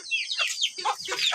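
Chickens entering a coop, a brief flurry of close clucks and squawks overlapping one another, fairly loud with no talking.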